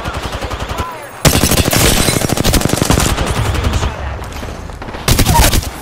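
Loud automatic gunfire in Apex Legends, with long rapid bursts of close shots broken by a short pause, then another burst at the end.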